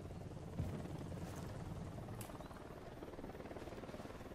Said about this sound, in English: That's a helicopter. I really don't like those.